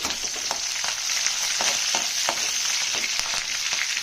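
Garlic with dried and green chillies frying in hot oil in a pan for green gram curry, a bright steady sizzle broken by a few soft stirring scrapes, close and with no talking.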